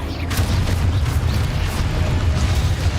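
Repeated booming blasts from the Confringo explosion spell in the video game Hogwarts Legacy, several dull bursts in quick succession over a rumbling game background.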